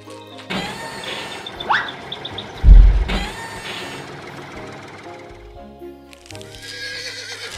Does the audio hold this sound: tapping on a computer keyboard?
no